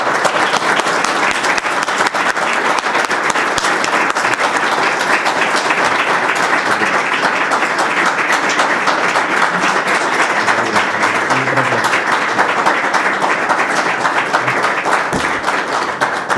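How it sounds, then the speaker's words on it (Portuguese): Loud, continuous applause fills the room at a university library reading club gathering, a dense, unbroken wash of clapping from the audience that holds strong throughout. "E pedia que se juntassem a mim numa enorme salva de palmas ao Dr. Carlos Filhais."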